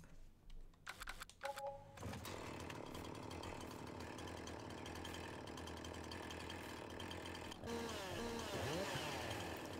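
Game chainsaw from Farming Simulator 19 cutting down a tree, a steady buzzing drone running continuously for most of the stretch after a few brief clicks at the start, with no talking.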